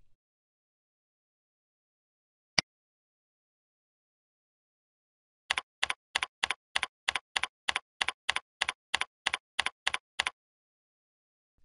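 Keys on a computer keyboard are typed in a quick, even run of about eighteen crisp clicks, preceded by one isolated keystroke, all close and alone in an otherwise silent room.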